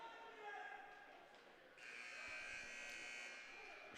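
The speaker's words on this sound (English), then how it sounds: "Shot clock buzzer going off there." Shot clock buzzer sounding at an indoor basketball tournament game, a steady electronic tone that swells partway through over faint, distant gym and crowd noise.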